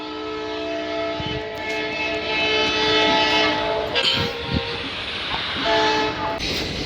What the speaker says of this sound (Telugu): ట్రైన్ అయితే వెళ్తుంది